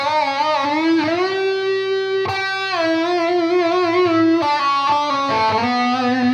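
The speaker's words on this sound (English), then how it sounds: "Add a little overdrive or a little distortion, some gain to give you a little bit more sustain." Electric guitar with overdrive distortion playing sustained, gritty notes and short melodic phrases, loud and close, with no voices.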